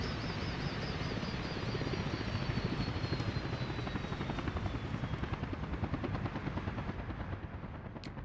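A helicopter in the city-building game Workers & Resources thrums steadily and loudly throughout, its rotor beating in a fast, even pulse with no speech.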